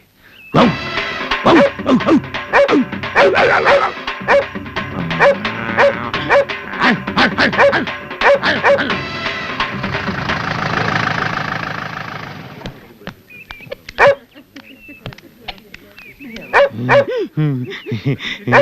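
A man imitates a dog barking, a long string of loud, rapid, rhythmic woofs and yaps close to the microphone in a comedy scene, then a strained drawn-out howl followed by scattered single barks.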